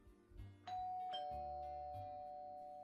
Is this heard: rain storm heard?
no